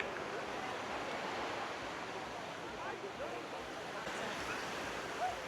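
Sea waves surge and wash onto the beach at Scarborough, North Yorkshire, on a sunny day, a steady broadband rush of surf that stays loud throughout, with voices talking over it.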